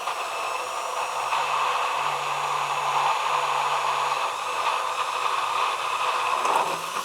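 Immersion stick blender whirring steadily through garlic mayonnaise, a continuous close motor hum with a slight buzzing tone held throughout, with no talking.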